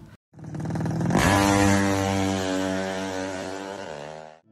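A motorcycle fitted with a bobokan-style open racing exhaust revs hard, a loud throaty blat that swells and holds steadily for several seconds before cutting off, with no talk.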